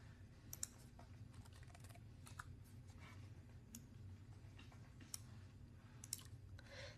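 Computer keyboard typing while entering a command in a PowerShell terminal, a scattering of light key clicks over a steady low hum, fairly quiet and with no one talking.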